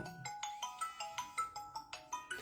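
Repeating electronic ringtone-style telephone call tone while trying to reach an embassy, about ten short bright beeps in a steady rhythm, each with a sharp onset and quick decay, clear and alone with no talking.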